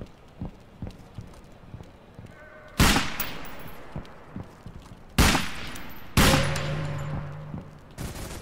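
Gunshots in the stealth game Velvet Assassin: three loud, well-spaced cracks with echoing tails ring out over a quiet bed of faint clicks and footsteps, followed by a fourth shot at the end.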